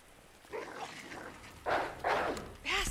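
Dogs bark in a video game in a few sharp bursts near the end, after a stretch of quieter game sounds with some movement.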